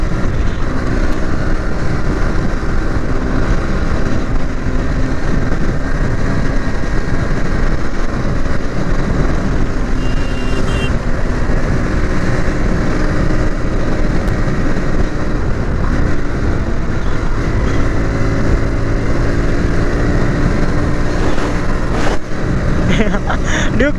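KTM Duke and Bajaj Pulsar NS motorcycles race on the road, their engines droning loudly and continuously amid heavy wind rush, with a rider's voice speaking over the noise.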